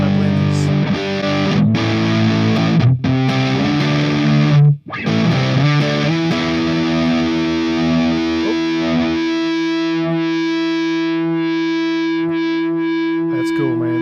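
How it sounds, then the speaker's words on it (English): A distorted electric guitar through a Fender Tone Master Pro rings out, then settles into sustained, humming feedback tones that hold steadily and swell, loud and close. "Listen to that feedback."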